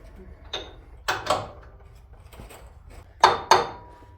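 A wrench tightens bolts on a Hooke Road bumper being installed on a 2007 Toyota Tundra, giving a few sharp metallic clicks and clanks in separate bursts with quiet gaps between them.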